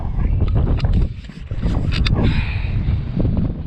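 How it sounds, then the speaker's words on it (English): Strong gusting wind buffets the microphone during rooftop solar panel mounting, a loud, continuous low roar with brief lulls and a few faint knocks and clatters. "Naturally, it's very windy when I'm trying to mount panels."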